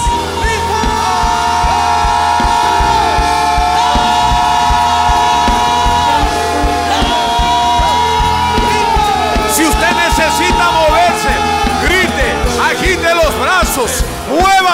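A church congregation shouts together at once, a loud sustained crowd roar of many voices mixed with a preacher's amplified speech and music, swelling and surging over several seconds.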